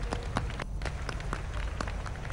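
A large audience at a Narendra Modi event at Ramdev Baba's ashram claps steadily, a dense, continuous applause with scattered sharp individual claps standing out, close and even throughout.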